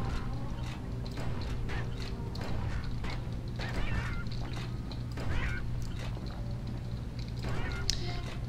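Birds in the video game Bastion squawk and honk repeatedly in quick, goose-like calls over a constant low game hum and rumble.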